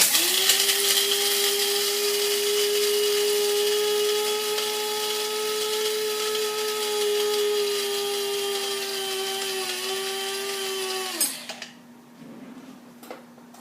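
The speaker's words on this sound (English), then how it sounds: "that's all that goes in the coffee grinder" A coffee grinder grinding nuts whirs with a high, steady motorized whine for about eleven seconds, then cuts off abruptly, leaving light clinks and rattles.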